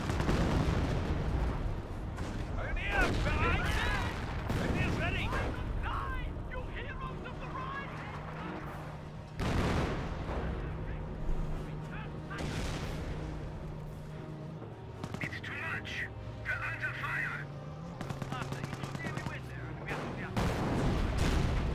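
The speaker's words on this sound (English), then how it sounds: "25-pounder hitting back there." Artillery fire from British 25-pounder guns in the Company of Heroes battle game, with repeated booming shots and distant impacts scattered among gunfire, mortars and battlefield noise.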